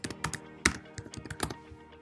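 Close, distinct keystrokes tap on a computer keyboard while a map layer name is entered, a sparse uneven run of clicks with a few heavier thunking presses, alone and without talk.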